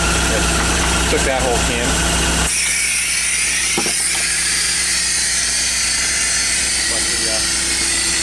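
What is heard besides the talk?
VW bus engine running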